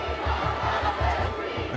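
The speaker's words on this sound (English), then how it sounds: "A crowd gathers at Kensington Town Hall." An angry crowd gathers outside Kensington Town Hall in London, a loud mass of voices chanting and shouting in a steady rhythmic beat that keeps pulsing throughout.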